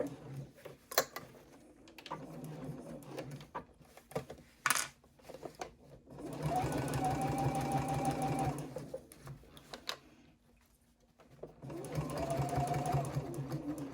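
Sewing machine stitching fabric for a triangle pouch, quiet ticks and clicks first, then two sustained runs of fast, steady whirring stitches separated by a brief pause.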